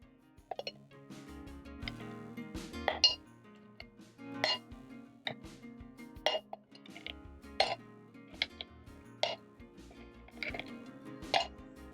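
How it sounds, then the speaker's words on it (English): Ice cubes dropped into a glass while preparing a non-alcoholic passion fruit mojito, giving a series of bright clinks and plops scattered over about twelve seconds, close and moderately loud, with soft background music. "Then next, you're going to add in some ice cubes."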